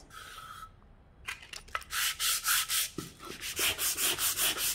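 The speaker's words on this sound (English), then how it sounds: "Now I'm going to go and sand the inside bottom of my box." Hand sanding of the inside bottom of a wooden pencil box from a craft kit, starting with a few scattered scrapes, then a steady run of close, rhythmic back-and-forth rasping strokes, heard alone.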